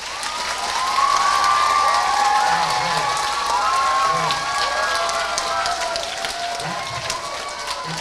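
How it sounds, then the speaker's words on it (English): An audience at an amateur radio space-station contact event applauds in a long, loud, even round, with cheering and scattered voices mixed into the clapping. "Another round of applause."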